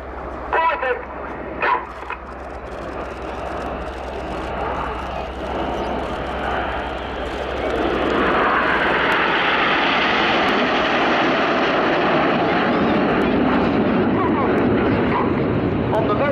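Red Arrows jets flying in Concorde formation at an air show, a loud jet roar that swells and holds steady, heard with crowd noise, a dog barking and an announcer talking early on.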